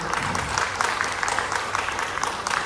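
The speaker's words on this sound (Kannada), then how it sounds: "ಇವತ್ತೆಲ್ಲ ಒಂದು ಜೋರಾದ ಚಪ್ಪಾಳೆ ಬರಲಿ." An audience at a Ramayana Harikatha performance gives steady, moderately loud applause, with dense overlapping claps that run evenly without pause.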